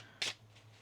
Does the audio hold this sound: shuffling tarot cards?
yes